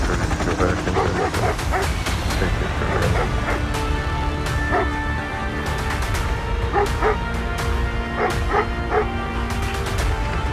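A dog named Riley in the Call of Duty video game barks and yips repeatedly over dense game sound and background noise, with voices talking at times.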